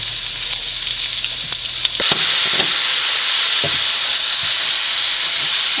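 Duck pieces for Kuttanad-style duck roast hit a hot pan and erupt into a loud, steady sizzle and hiss of frying, with a few scraping stirs over the constant crackle and no talking.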